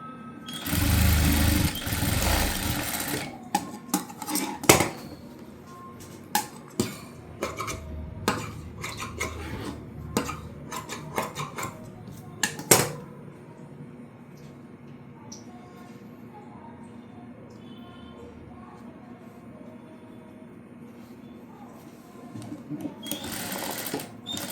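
A sewing machine runs in loud bursts while finishing the back-opening placket of a front princess-cut blouse, with a long fast run at the start, then short stops and starts and clicks, and a final brief burst.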